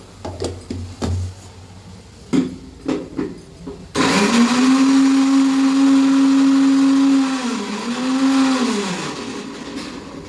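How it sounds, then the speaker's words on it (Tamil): Mixer grinder blending a single tomato, a few thumps and knocks before the motor starts abruptly into a loud high whine that holds steady, dips briefly, then winds down toward the end. "ஒரு தக்காளி மட்டும் போட்டு அரைக்கிறேன்"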